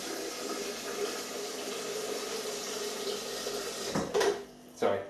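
Tap water runs steadily into a 1940s-style American coffee pot, a continuous close rushing fill that ends in a couple of brief clunks and splashes near the finish.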